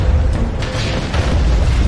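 A house blown apart in a movie explosion: a dense, loud boom with rumbling low end and crackling debris that stays thick and sustained for the whole stretch, with no voices.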